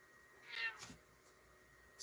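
A cat gives a single short, fairly quiet meow, with a faint second call starting at the very end against a soft, hushed background.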